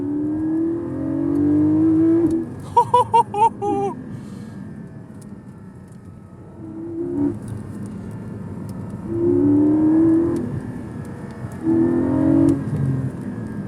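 A Porsche Cayman with a PDK gearbox in Sport mode and traction control off pulls away, its engine note rising in steady surges across several gear changes from inside the cabin, with a brief burst of clicking midway.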